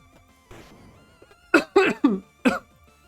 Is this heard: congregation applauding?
no